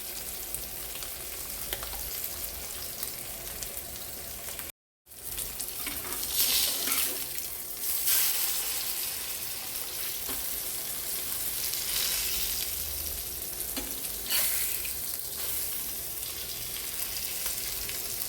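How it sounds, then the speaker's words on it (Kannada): Kallur fish pieces coated in a spicy, tangy masala fry in oil on a high flame, a steady, loud, close crackling sizzle running continuously apart from one brief cut, with no talking. "ಈಗ ಒಂದು ಕಡೆ ಈ ಥರ ಹೈ ಫ್ಲೇಮಲ್ಲಿಟ್ಟು ಫ್ರೈ ಮಾಡಿ ಮೀಡಿಯಮಲ್ಲಿ ಇಡಬೇಕು."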